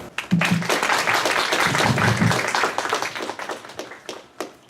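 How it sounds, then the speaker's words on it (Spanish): Audience applause at a university lecture honouring economist Ludwig von Mises, a mix of sparse hand claps and taps rising near the start and thinning out toward the end, with a few murmuring voices underneath. "Un aplauso, por favor."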